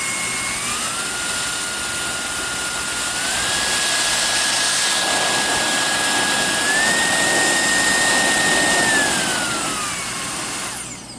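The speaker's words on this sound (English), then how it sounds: "so that's just to show you guys how strong the wind is." MECO rechargeable mini blower/duster running, a loud steady high-pitched motor whine with a strong airy rush, pitch stepping up and down across speed changes before shutting off, close and without talking.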